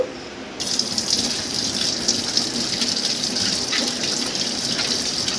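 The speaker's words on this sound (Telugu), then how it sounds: "రెండు మామిడికాయలు తీసుకున్నాను నేను పచ్చివి వీటిని శుభ్రంగా మనము కడుక్కుందాము" Two raw mangoes washed under a running tap, a loud continuous gush of water splashing into a sink that starts abruptly after a brief quiet moment and runs steadily, close by, with no voices.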